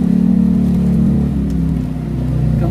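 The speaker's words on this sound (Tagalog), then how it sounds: "Maingay, may motor." A motorcycle engine drones loudly outside, a steady low rumble that eases slightly toward the end, heard with no talking.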